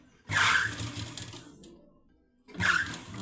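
A sewing machine top-stitches umbrella fabric in two short close runs of whirring stitches with a brief pause between them.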